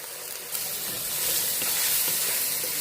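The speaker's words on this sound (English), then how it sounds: "So we want to cook the mushrooms until they start to release moisture." Mushrooms sautéing in a pan, a steady close sizzle and crackle with occasional stirring scrapes, continuous and fairly loud throughout.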